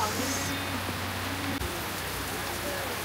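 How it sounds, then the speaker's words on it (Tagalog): Rain falling steadily at a cottage in Sorsogon, a dense even hiss of drops on surfaces that holds level throughout, with a faint low hum underneath. "So, umuulan guys."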